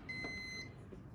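A National SR-JA18H Japanese rice cooker gives one short, thin electronic beep as its button is pressed, faint and close over quiet room tone.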